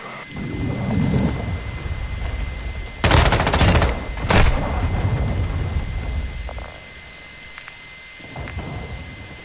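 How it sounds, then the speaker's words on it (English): Cruise missile strike in Modern Warfare 2: after a low rumbling background, two sharp heavy blasts land close together, the first longer and crackling, each trailing into a deep rolling rumble that fades back to distant battle noise. "Hostiles launch the cruise missile."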